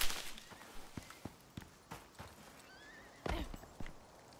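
Horses in the Icarus survival game snort and whinny over scattered hoof clops. A brief neigh cuts through several soft, irregular thuds, heard alone and fairly faint.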